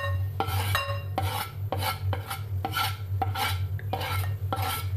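Börek filling with freshly chopped parsley being stirred in a bowl, a steady run of rasping, scraping strokes repeating about every half second, close and fairly loud over a constant low hum.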